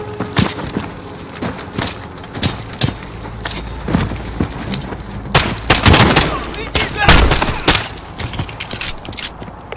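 Gunshots crack in a Call of Duty Modern Warfare campaign firefight, scattered single shots and short bursts at varying distances, some loud and close, with voices speaking at moments among them.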